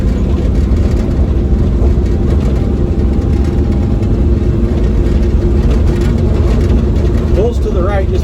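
A mini truck's engine drones steadily while driving on the road, a continuous low rumble close by with a brief squeak near the end.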